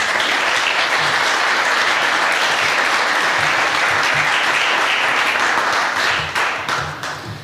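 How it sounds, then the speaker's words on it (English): Dense, warm applause fills a conference hall as a speaker named Astor is welcomed at an open source policy talk, steady and loud for several seconds before tapering off at the end. "Please welcome Astor with a warm round of applause"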